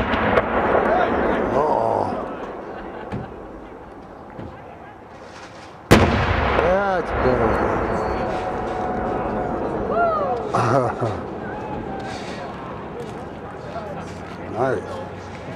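A 12-inch spider web firework shell bursts with a single loud boom, followed by crackling and whistling as it spreads, while a crowd talks and cheers throughout.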